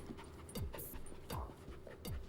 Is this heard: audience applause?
no